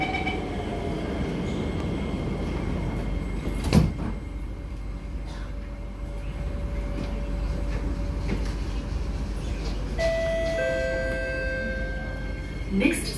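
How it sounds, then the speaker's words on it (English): Singapore MRT KSF C151C train departing Choa Chu Kang toward Bukit Gombak, with a steady interior rumble, a sharp door thump early on, then rising motor whine tones as the train pulls away, with a recorded announcement over it. "doors are closing."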